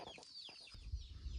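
Domestic chickens kept on a Nepali farm, a few short clucks and chirps close by, followed by low rumbling handling or wind noise.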